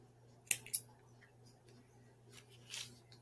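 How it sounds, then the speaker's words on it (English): Scissors snipping yarn for a loom-knitted beanie, two quick close clicks of the blades, then a softer rustle of handling against a low steady hum in a quiet room. "So you'll just cut your yarn"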